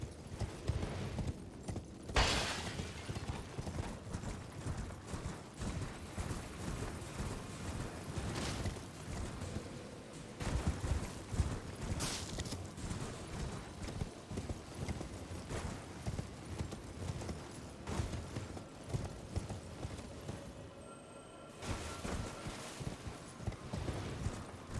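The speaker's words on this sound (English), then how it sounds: "Oh wait, I can access the horse in here?" Horse hooves clip-clopping in a steady, quick gallop across open ground in the video game Elden Ring, continuous and fairly loud over rustling game ambience, with occasional louder thumps.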